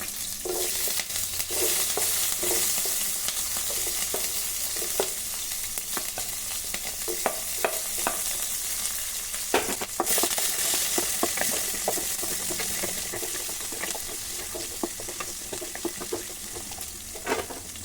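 Cumin and capsicum fry in a pan while being stirred, giving a steady close sizzle with frequent scraping clicks of the utensil throughout.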